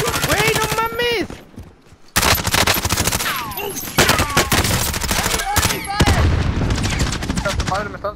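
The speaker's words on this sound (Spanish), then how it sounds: "Madre, me están zumbando los balazos hasta acá." Rapid bursts of gunfire and crackling bullets in a video game shootout, dense and loud throughout, with a brief lull near the start, mixed with excited voices talking over the shots.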